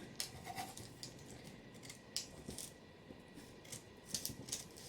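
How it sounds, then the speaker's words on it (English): Scissors snip through a paper bag being trimmed into a folio pocket, a series of short, close crisp cuts and rustles at a quiet, irregular pace with no talking. "So I'm gonna cut this and the front off."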